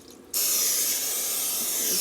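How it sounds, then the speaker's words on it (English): A steady, loud hiss of butter-flavored aerosol cooking spray into a casserole dish starts abruptly and continues without a break, close up. "So she says to spray this down with cooking spray."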